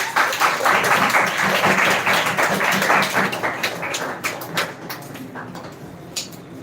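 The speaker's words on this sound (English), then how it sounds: "please welcome with a big round of clap for our mentor and director" An audience gives a big round of applause for a mentor and director at a speech competition grand finale, dense and loud at first, then thinning into scattered individual claps.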